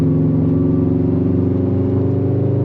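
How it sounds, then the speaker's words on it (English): Deep, steady burbling rumble of a 2018 Subaru WRX STI Type RA turbocharged EJ flat-four boxer with unequal-length headers and an AWE track spec catback exhaust, loud, close and continuous, no voices. "That flat 4 turbocharged engine, that's what you're hearing is the boxer rumble."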